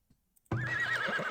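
Horses in the frontier-settlement video game Farthest Frontier let out a single loud, close whinny after a brief quiet start with faint hoof clops, the neigh wavering steadily to the end.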